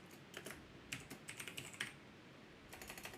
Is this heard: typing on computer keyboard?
yes